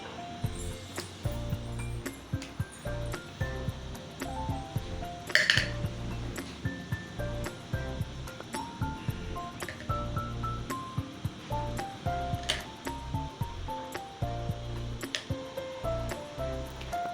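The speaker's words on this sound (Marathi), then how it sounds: "म्हणून याला सारखं हलवायचं, म्हणजे ते शाबू एकमेकांना चिकटणार नाहीत।" Sabudana and potato khichdi is stirred in a pan, with a utensil scraping and clinking against the metal in irregular strokes throughout, one sharper knock early on.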